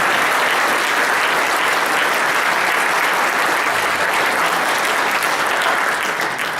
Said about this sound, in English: let's give a big round of applause for our candidates.